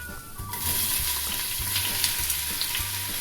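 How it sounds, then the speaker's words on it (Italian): Chopped onions fry in hot olive oil for a Tuscan ribollita soffritto, a steady broadband sizzle that holds for several seconds, with a low hum pulsing underneath. "Inizio la cottura con il soffritto, metto a riscaldare olio d'oliva"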